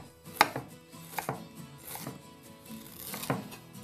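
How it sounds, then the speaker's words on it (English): Ginger being sliced thinly with a knife on a cutting board, a few crisp, sharp chops spaced irregularly, close and fairly quiet, with no talking. "So now we're going to start by slicing the ginger."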